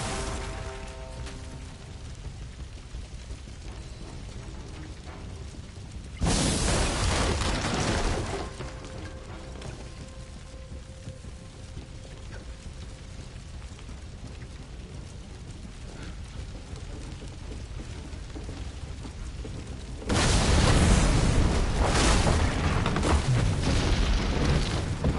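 Doors blow apart in a burning building in the Assassin's Creed Unity video game, with two loud roaring explosive bursts rising over a steady rumble of fire and game ambience, and no talking.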